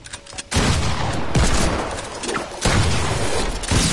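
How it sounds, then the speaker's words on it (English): Pump shotgun blasts and other gunfire in the video game Fortnite: a quiet opening, then heavy, loud bursts of rapid shots with short gaps between volleys, close and booming. "let me try to kill all of y'all with a new pump shotgun"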